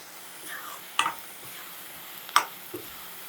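Tomatoes and onions fry in a pan for a leftover-pakodi curry, a soft steady sizzle broken by two sharp scrapes of a spoon stirring the mixture, with a lighter clink near the end.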